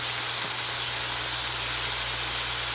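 Meat browning in a pan for carnivore chili gives off a steady, broadband sizzle and hiss with a low constant hum beneath, continuous and unchanging throughout with no talking.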